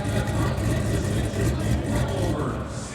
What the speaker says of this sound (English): this one still burbling, still running here as it goes down the block